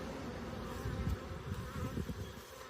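Honeybees hum steadily in a dense, continuous drone at an opened hive during a June inspection, the swarm close and loud with small swells in intensity.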